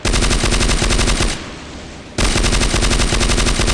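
Loud, rapid machine gun fire in the video game CrossFire Mobile, dense continuous bursts broken by a short pause of quieter rumble before the firing resumes.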